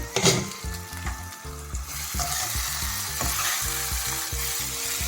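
Okra frying in a pan sizzles loudly and continuously up close, broken by repeated scraping stirs of a spatula against the metal, with no one speaking.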